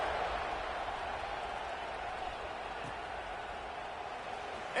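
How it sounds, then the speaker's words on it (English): Crowd buzzing in the College Football 26 video game on PS5 after a score, a steady, dense wash of stadium noise held throughout, with no break or rise. "this crowd is buzzing after that last score"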